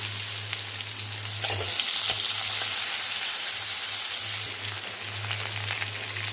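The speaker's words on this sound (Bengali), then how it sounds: "কড়াইয়ে কালো জিরে আর পেঁয়াজ দিলাম," Onion and black cumin frying in a wok, a loud, steady close-up sizzle with occasional stirring scrapes and a low electrical hum running underneath.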